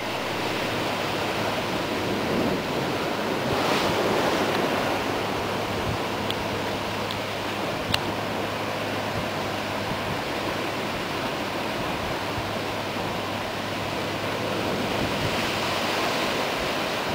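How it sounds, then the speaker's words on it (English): Ocean waves surging in and out of a sandstone sea cave on a cliffside coast, a continuous broad wash of surf and wind with swells rising and falling, no talking. "As the waves crash in and out of the sea cave, they further erode the sandstone away."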